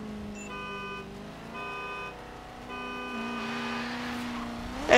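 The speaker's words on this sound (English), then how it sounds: "He's revving like mad." V8 race cars in the video game Forza Horizon 3 hum and rev at the start line, steady engine tones rising and dipping before a louder surge at the very end, with no talk.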